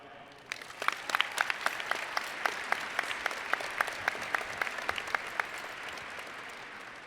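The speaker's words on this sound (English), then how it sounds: "give a round of applause to acknowledge Clark High School's class of 2024 salutatorian, Charles Weiner." A graduation crowd at a Clark High School ceremony applauds the class of 2024 salutatorian, with steady, sustained clapping from many hands that fills the hall at moderate distance, without speech.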